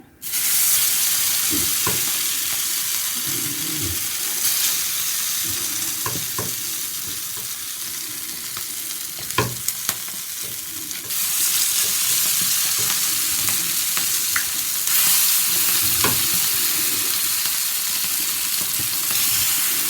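Sardines (mathi fish) frying in oil in a pan, a steady close sizzle and crackle that swells when more pieces go in, with occasional clinks of a utensil.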